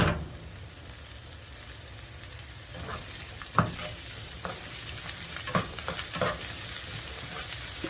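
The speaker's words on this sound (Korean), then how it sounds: "올리브유에 양파를 좀 볶아준다고요" Onion sautéing in olive oil, a soft continuous sizzle with a few faint stirring clicks and taps, fairly quiet and close, no one speaking.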